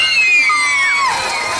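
Schoolchildren at a quiz contest cheer and shout in high, sliding whoops, a loud close burst of young voices that fades slightly toward the end.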